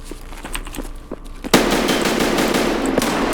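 An ADAR 2-15 assault rifle in Escape From Tarkov fires a few scattered single shots, then breaks into a loud, rapid, sustained burst of gunfire.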